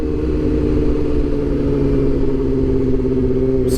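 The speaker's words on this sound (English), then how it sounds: "I'm using downshifting right now to slow me down" A motorcycle engine drones steadily and loud, engine braking as the rider downshifts, a sustained low rumble holding an even pitch that drops near the end.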